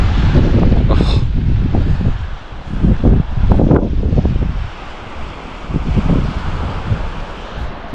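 A strong wind buffets the microphone on an Australian beach at night, with waves washing in as a steady low rush and gusty surges throughout.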